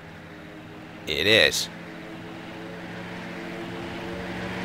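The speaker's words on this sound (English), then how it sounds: "Sounds suspiciously like a plane." In the survival game Rust, an airplane drones overhead as a steady engine hum, and a short, sharper burst of sound rises briefly over it. A voice speaks a couple of words.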